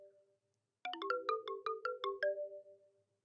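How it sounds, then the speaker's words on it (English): A xylophone phone ringtone from the video game Deadly Premonition 2 plays a quick, bright run of about eight mallet notes alone, with a faint sustained tone beneath and no talk. "Is this our ringtone waking us up"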